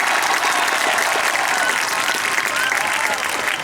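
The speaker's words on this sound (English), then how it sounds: "Let's give our students who are from the area a big round of applause" A stadium crowd gives a big round of applause for returning students during a college marching band pregame show at West Shore Stadium; dense, steady clapping and crowd noise fill the whole stretch without letting up.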